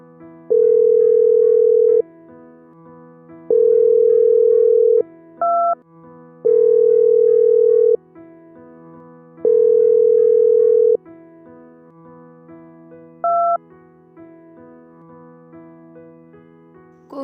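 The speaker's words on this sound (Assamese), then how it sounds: "মই এতিয়া কৌশিকলৈ ফোন কৰোঁ।" An unanswered phone call rings out: a repeated ringback tone sounds about five times at regular intervals, loud and steady with nothing else around it.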